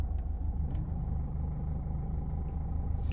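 A diesel Renault Clio is driven out of a parking spot with a steady, low engine rumble heard from close by, and no talking over it.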